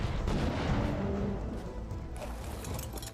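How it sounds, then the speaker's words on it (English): Cannon fire aimed at a Stegotetrabelodon in the video game ARK Survival Ascended: a dense, sustained rumble of booming shots under constant battle noise, with no clear separation between blasts. "you'll need a cannon to put it to sleep"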